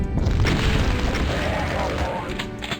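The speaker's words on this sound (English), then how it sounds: "This is what old Santa Claus was saving his rocket launcher for." A rocket launcher fires in the video game Doom, a deep booming blast with a rumbling explosive tail that swells and then fades, loud and close.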